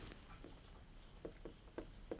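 A pen scratches out a handwritten maths solution for a circle equation, a quiet run of rhythmic strokes at close range over low background hiss.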